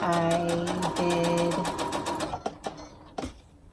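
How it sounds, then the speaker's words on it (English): A sewing machine stitches along the edge of a scarf in a fast, even run of close mechanical clatter, then slows to a few separate stitches and clicks before stopping, with some speech under it. "So I'm just sewing up the edge."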